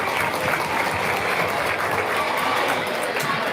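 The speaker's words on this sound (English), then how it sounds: "They deserve a great big round of applause." Audience at a hog show applauds for intermediate showmen, a dense, steady wash of clapping from a crowd that holds evenly for a few seconds.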